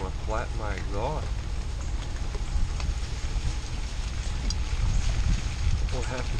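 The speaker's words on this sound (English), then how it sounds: "It's raining. It's nasty." Steady rain hisses outdoors around a vehicle on a rough, potholed track, a constant wash of noise throughout, with brief voice-like tones near the start and end.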